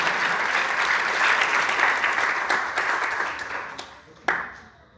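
A church congregation applauding, sustained dense clapping from many hands that thins and fades toward the end with a final sharp clap, fairly loud and roomy, no speech over it.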